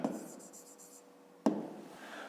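A pen scratching across paper while solving a fifth-grade math exercise, soft steady strokes with a short tap partway through, quiet and close.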